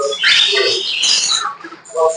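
Pet birds on a farm chirp and squawk busily at morning feeding time as soaked chickpeas are offered, a dense, close chatter of overlapping calls with a brief lull before another burst.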